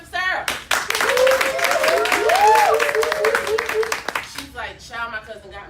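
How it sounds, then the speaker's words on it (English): An audience at a conference breakout session claps for an assistant, brisk clapping running under loud cheering and overlapping voices before fading into speech. "And clap it up for Sarah."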